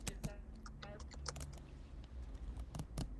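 Rapid, irregular clicky keystrokes from a computer keyboard sit very close to a microphone. The sharp, hollow taps run in steady bursts, with faint talk in the background.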